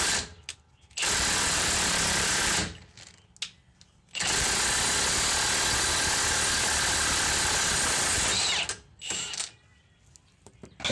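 A ratchet or impact-style tool works on a car axle nut in two long, loud buzzing mechanical runs separated by short pauses, close up with no talk.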